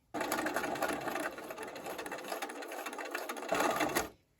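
A sewing machine stitches a seam through a Martha Washington Star quilt block, its rapid mechanical whirring running steadily up close for about four seconds before stopping abruptly.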